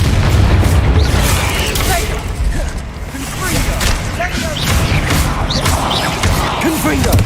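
Hogwarts Legacy spell combat, Confringo and Bombarda blasts going off: loud, dense booms and crackling bursts over a constant rumble of combat, with voices mixed in the din.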